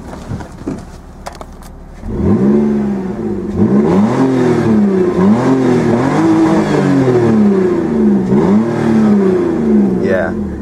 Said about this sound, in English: the exhaust is, I think it's like 2 1/4, and the muffler's bypassed. So brap brap. Give it a few revs.